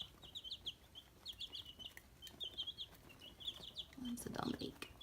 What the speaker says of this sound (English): That's a Dominique. Very smart little bird.